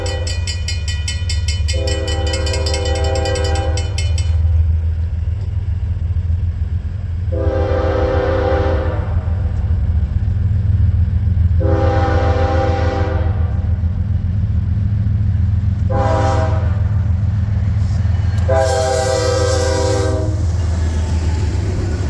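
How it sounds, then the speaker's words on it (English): Norfolk Southern freight train NS 30T, led by five locomotives, rumbles steadily on a stormy afternoon while its horn sounds in several loud, separate blasts over the continuous low roar. "our final train to Spring Break 2024 would be NS 30T with 5 units"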